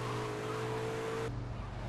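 A car engine in GTA Vice City Stories on the PSP hums and drones steadily as the vehicle drives, then drops to a lower, duller rumble partway through, with no voices.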